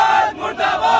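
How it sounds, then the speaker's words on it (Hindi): A street protest crowd at Gandhi Ashram chants slogans against the municipal corporation, a loud, close burst of massed voices rising and falling in rhythm over about a second. "पब्लिक सहित सभी ने इस बात को लेकर गांधी आश्रम पे जाम लगाकर नगर निगम में प्रशासन के खिलाफ जमकर नारेबाजी की"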